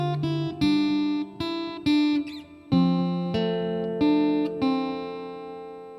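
Guitar plays a riff alone, a run of clear plucked notes and chords with pull-offs and a sliding triad, each attack ringing out in a steady, moderately paced rhythm.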